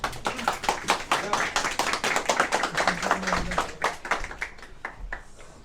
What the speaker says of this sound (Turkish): Bir alkışlayın arkadaşlar